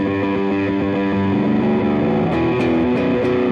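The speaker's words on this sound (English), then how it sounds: "I'll turn the clean down so you hear only the distortion" A bass guitar played through an EBS Billy Sheehan Ultimate Signature Drive pedal with only the distortion channel, a gritty sustained tone with thin low end, a few sharper picked attacks toward the end.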